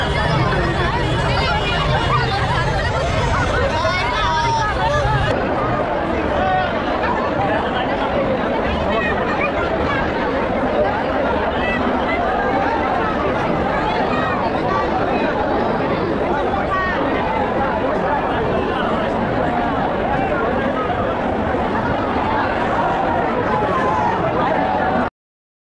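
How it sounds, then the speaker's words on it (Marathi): A dense crowd packs a Ganpati pandal in Pune during the festival, with a steady, loud hubbub of many overlapping voices and chatter filling the space throughout without a break. "बघू शकता गर्दी किती आहे."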